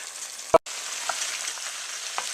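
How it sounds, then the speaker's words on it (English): Sausage hits a dark, chocolate-colored gumbo roux with a sharp single thump, then settles into a quiet, steady sizzle with a few faint pops, close and alone without any voice. "Now the sausage goes in."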